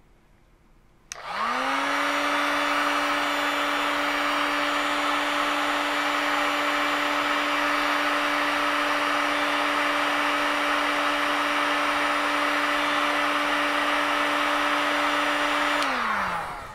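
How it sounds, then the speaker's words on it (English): A heat gun runs continuously, warming a K-type MAX6675 thermocouple sensor toward 100 degrees. It starts abruptly with a loud, steady fan whine and blowing hiss that holds unchanged to the end, then winds down briefly. "Now we are using a heat gun to heat it up to reach this 100, to see if it turns off."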